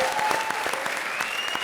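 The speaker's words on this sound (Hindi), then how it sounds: "ठोको ताली।" A comedy show studio audience bursts into brisk, steady applause, close and loud, while a faint whistling tone drifts over the clapping.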